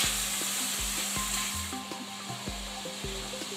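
Chicken breasts browning in fat in a frying pan, a steady close sizzle running throughout, with small pops and scraping contacts every half second or so as pieces are shifted.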